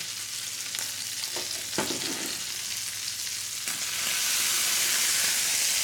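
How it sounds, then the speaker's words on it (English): Mild peppadew peppers hit a hot frying pan with a steady, close sizzle that swells louder and brighter near the end, joined by a few scraping stirs. "We're going to go ahead and add some peppers to this. I use mild peppadew peppers here."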